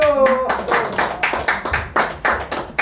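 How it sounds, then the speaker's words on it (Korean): Audience at a real estate lecture seminar clapping in a short burst, a few distinct claps that start over a fading tone and settle into a loose, uneven rhythm close to the listener. "박수."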